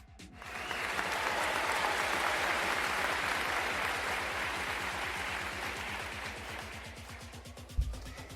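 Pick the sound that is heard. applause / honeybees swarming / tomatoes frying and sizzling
applause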